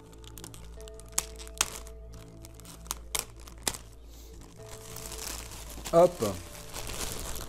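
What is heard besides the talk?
removing plastic packaging from a figurine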